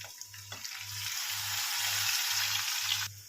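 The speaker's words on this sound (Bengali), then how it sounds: "এরপরে এটাকে ভালো করে ভেজে নেব।" Mustard paste with turmeric, chili powder and cumin powder frying in a pan, giving a steady, close sizzle throughout with a low, regular stirring beat underneath and no talk.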